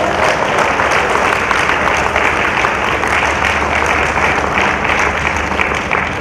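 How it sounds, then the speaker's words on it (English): A further round of audience applause at a 94th birth anniversary celebration, dense and even clapping from a sizeable crowd that holds steady throughout. "I think we'll give one more round of applause."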